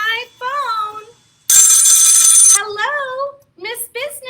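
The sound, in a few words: telephone ringing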